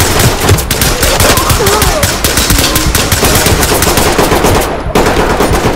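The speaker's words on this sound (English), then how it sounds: "I don't know where I'm being shot from" Sustained automatic gunfire in the tactical shooter Ready Or Not, loud and close, with rapid overlapping bursts running almost without pause.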